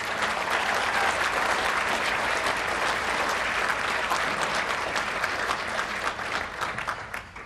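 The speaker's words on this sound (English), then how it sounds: "Another round of applause for all of our candidates." Sustained audience applause at a church awards event honoring candidates for Catholic Woman of the Year, a loud, continuous crowd of clapping hands that thins slightly near the end.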